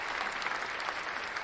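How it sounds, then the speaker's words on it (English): A brief applause sound effect on a metal radio show, a dense burst of clapping heard alone at moderate volume. "We'll give you the applause you deserve."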